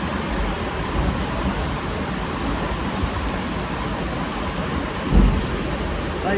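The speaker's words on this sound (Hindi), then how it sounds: "इतनी हवा के साथ बारिश हो रही है" Heavy rain driven by strong wind roars as a steady, loud wash of broadband noise throughout, with a brief low thump or gust swelling near the end.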